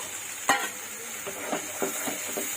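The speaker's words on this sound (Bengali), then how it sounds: "এটাকে একটু কষিয়ে নিই।" Spiced khichuri with a little water is stirred in a pan on the stove, a spoon scraping and knocking in a few separate strokes over a steady soft sizzle, close and moderately quiet.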